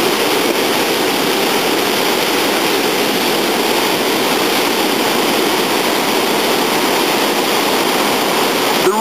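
A river running full and fast with snowmelt beside Hollow Pumpkin Bridge at the edge of Sequoia National Park, a steady, loud, broadband rush of water that holds constant and close throughout with no other sounds.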